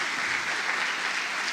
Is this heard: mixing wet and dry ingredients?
no